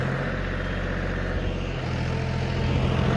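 An engine drones loud and close as a tractor under a heavy load labours up an incline at night, the low rumble holding steady with a slight dip midway.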